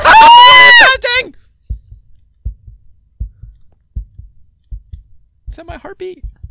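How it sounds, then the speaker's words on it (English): A slow, steady heartbeat from the Minecraft video game sounds as soft paired low thumps repeating at regular intervals. A loud voice shouts before the beats, and a voice is heard again near the end. "Is that my heartbeat?"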